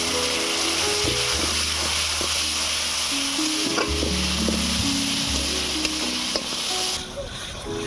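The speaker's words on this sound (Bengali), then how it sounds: "এবারে মশলাটা ভালো করে কষিয়ে নেব" A ground spice paste of cumin, coriander, chilli and garam masala powders with a splash of water, fried and stirred in a pan for egg curry, gives a continuous hiss and scraping under a steady melodic tune.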